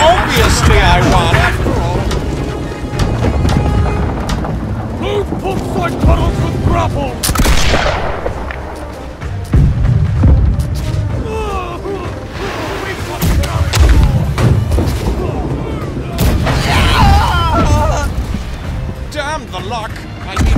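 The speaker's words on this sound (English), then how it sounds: "Okay, get left side cannon. Left side cannon, guys." Ship cannon fire in the naval game Blackwake, repeated heavy booms and gunshots spread across a noisy battle, with voices talking and shouting throughout.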